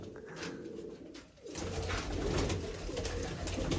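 Pigeons coo close by, low throaty burbles repeating over a busy, noisy background that grows louder partway through.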